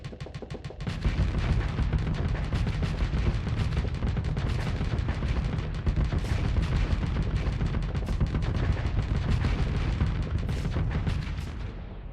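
Spaceship weapons in the space combat game Starsector fire in a relentless barrage of heavy booming cannon shots and rapid gunfire, loud and continuous for the whole stretch, with no talking.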